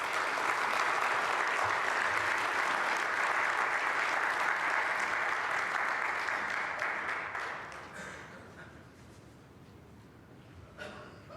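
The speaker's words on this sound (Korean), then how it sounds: "우리 크게 박수로 환영해 주시면 감사하겠습니다" Audience applause welcoming guest speakers at a Sunday church service, loud and sustained broadband clapping for about eight seconds before fading to a quiet room with a brief later rustle.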